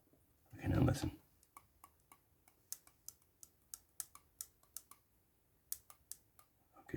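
Clarinet upper joint keys click after reassembly, a string of sharp, close metallic clicks in an uneven rhythm, following a brief burst of handling noise at the start.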